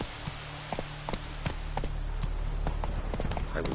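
Geralt's horse Roach from the video game Witcher 3, hooves clip-clopping in a quick, uneven galloping rhythm, close and distinct over a low background drone.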